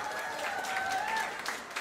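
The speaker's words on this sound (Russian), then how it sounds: "Еще раз аплодисменты." An audience at a Sonic fan-game convention stage event applauds, a dense steady wash of clapping from a large crowd with a faint whistle or voice above it, sustained at moderate level.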